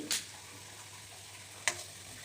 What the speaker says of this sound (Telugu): ఆనియన్స్ వేగుతున్నప్పుడు ఒక హాఫ్ స్పూన్ పసుపు పావు స్పూన్ సాల్ట్ వేయాలి